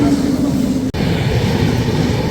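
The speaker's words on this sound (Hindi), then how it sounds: "किसी ट्रेन से तो क्रॉसिंग हो रही है।" Steady loud rumble and rush of an Intercity express train in India passing another train, the Lucknow AC Superfast Express, with a brief dropout midway and continuous rail noise throughout.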